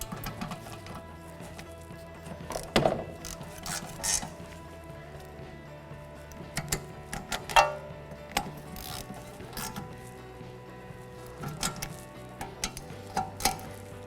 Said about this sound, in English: then we'll put a ratchet on it. We'll just snug them down